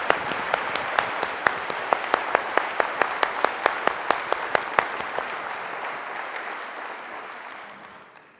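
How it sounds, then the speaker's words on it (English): An audience at MIT's Technology Day 2023 applauds, a dense wash of clapping with sharp individual claps standing out, steady for several seconds before fading away. "let's give him a round of applause, too"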